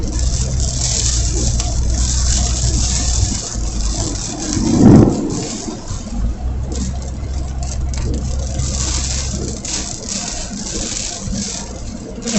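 Wind and rain from Tropical Storm Elsa batter a moving car, a steady loud roar of road noise and downpour with a brief surging gust midway.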